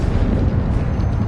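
A Confringo fire spell explodes in Hogwarts Legacy as one loud, close, deep blast with a dense roar that stays strong for the whole short moment.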